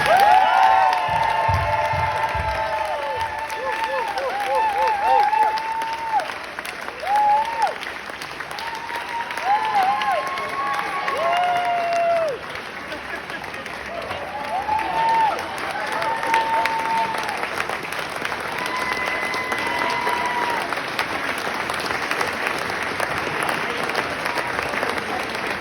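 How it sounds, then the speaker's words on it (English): Wedding guests break into sustained applause, a dense wash of clapping with scattered cheers and whoops rising over it, lasting throughout and tapering gradually. "let's everybody give a big round of applause to Jane Brown."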